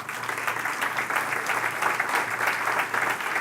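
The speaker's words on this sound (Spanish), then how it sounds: "Dale un aplauso al Señor." A church congregation claps steadily and loudly in praise, a dense, continuous patter of many hands sustained for several seconds without speech.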